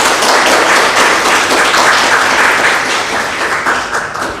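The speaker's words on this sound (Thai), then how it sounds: "ขอเสียงปรบมือแสดงความยินดีให้กับทั้ง2 หน่วยงานด้วยค่ะ" An audience applauds steadily at a formal academic cooperation agreement signing ceremony, a dense wash of clapping that stays loud and even before tapering slightly toward the end.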